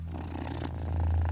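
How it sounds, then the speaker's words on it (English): A cat named Scarlet purring close by while curled up in someone's lap, a low, steady rumbling drone that grows a little louder and fuller toward the end. "Magpie lets the sound of Scarlet's purring calm her down"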